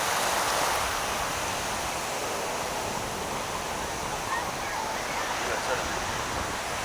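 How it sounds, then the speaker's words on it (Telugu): Ocean waves wash steadily onto a beach, a continuous broad roar of surf that fills the scene at a moderate distance. "ఇదిగో అలలు వచ్చినాయి"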